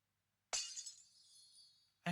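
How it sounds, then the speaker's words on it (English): In the video game Virche Evermore, a sudden glassy shatter erupts from silence, followed by a bright ringing tinkle of falling shards that fades, then a second sharp crack at the very end. "I heard it shatter in an instant."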